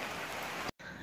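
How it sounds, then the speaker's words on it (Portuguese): Heavy rain falls in a dense, steady hiss of drops, loud and close, then cuts out briefly near the end before resuming. "Mas agora tá chovendo muito, não tem como."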